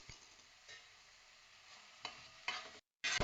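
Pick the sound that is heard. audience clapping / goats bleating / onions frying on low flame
onions frying on low flame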